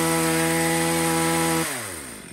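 Japanese-made chainsaw with a 91-type chain running steadily close by, its droning engine tone then dropping as the throttle eases off near the end.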